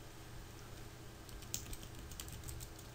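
Quiet typing on a computer keyboard, a short run of light clicking keystrokes over faint background hiss.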